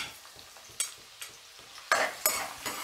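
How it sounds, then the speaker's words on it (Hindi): Garlic goes into hot oil for a mustard greens dish and sizzles, with a sharp hiss that swells in two bursts near the end. Soft utensil clinks can be heard underneath, and nobody speaks. "सबसे पहले हम यहाँ पर गार्लिक डालेंगे"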